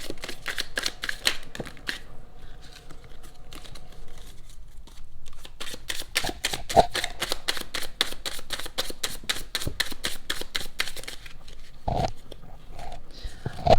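Tarot cards being shuffled by hand, a long run of quick, crisp riffling flicks in steady bursts close up, with a pause partway through and no talking.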